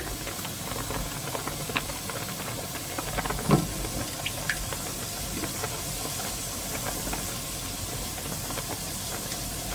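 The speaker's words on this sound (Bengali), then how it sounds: "তেল গরম হয়ে গেছে দিয়ে দিচ্ছি জিরা গোটা জিরা পরে দিয়ে দিচ্ছি হলুদ" Whole cumin seeds and turmeric frying in hot oil for a dal give a steady, close hiss with faint scattered crackles and one brief louder pop partway through.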